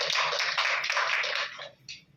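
A group of people clapping and applauding, dense and steady for about two seconds before thinning out and trailing off near the end.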